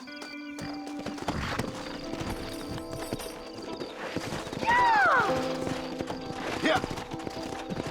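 Horses in the Western video game Red Dead Redemption clip-clop on hooves and one lets out a clear whinny midway, mixed with game music and a brief shouted voice.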